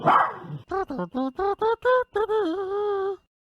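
A dog barks in a quick series of short yelps that stretch into a drawn-out whining whimper at the end, close and fairly loud, with a brief rustle before it starts.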